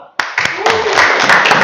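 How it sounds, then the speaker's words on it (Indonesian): Classroom students breaking into loud applause, scattered claps at first that quickly build into a dense, sustained round of clapping. "kita aplaus untuk kita semua"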